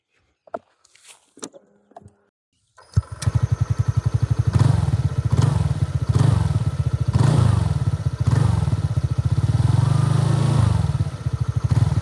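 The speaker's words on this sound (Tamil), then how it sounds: "நெக்ஸ்ட் இந்த வண்டியோட எக்ஸாஸ்ட் நோட் எப்படி இருக்குன்னு சொல்லிட்டு ஸ்டார்ட் பண்ணி பார்ப்போம்" A few clicks and clunks, then a TVS NTORQ 150 scooter engine fires up and settles into a loud, steady, throbbing, bassy idle exhaust note that runs on close by.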